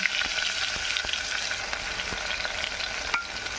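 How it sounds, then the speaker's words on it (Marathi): Chopped onion with green chillies sautés in a pan with reddened garlic for a red amaranth curry, giving a steady bright sizzle with faint spoon taps and scrapes at irregular intervals. "कांदा थोडा परतून घेते"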